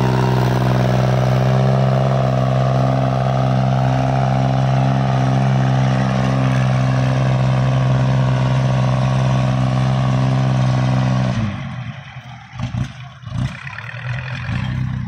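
A Kubota 30 horsepower farm tractor's diesel engine runs close by with a steady, loud mechanical drone, then cuts out abruptly near the end, leaving only scattered knocks and rustles.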